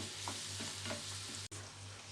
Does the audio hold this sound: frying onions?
yes